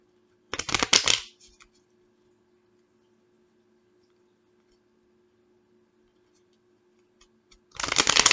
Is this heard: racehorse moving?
no